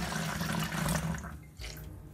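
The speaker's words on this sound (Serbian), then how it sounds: "Potom uzimam levak i sipam oko 100 ml alkoholnog sirćeta." About 100 ml of 9% alcohol vinegar is poured through a funnel, making a steady, close liquid stream that runs unbroken for a couple of seconds with no talking.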